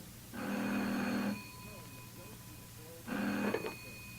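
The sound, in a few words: telephone ringing in a radio drama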